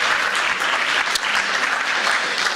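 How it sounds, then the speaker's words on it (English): Steady, dense applause fills a room at a community Democratic club gathering, many hands clapping together at close range without a break, with no talk over it. "Give these folks applause"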